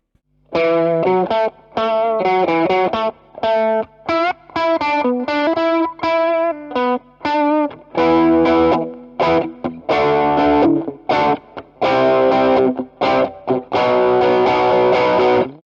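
Electric guitar through a Keeley Katana Blues Drive pedal playing a loud, gritty riff of single notes and chords in bursts separated by brief pauses.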